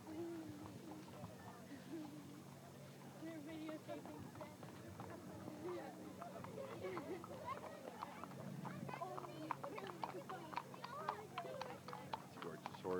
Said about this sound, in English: Yes, truly some beautiful horses here.